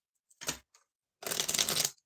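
Tarot cards are shuffled by hand in two bursts, a short riffle followed by a longer, dense flurry of card noise, close and fairly quiet with no talking.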